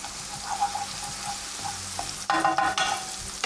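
Garlic sautéing in a pan for a mushroom dish, a soft steady sizzle with light stirring scrapes, then a louder burst of crackle near the end, no voices.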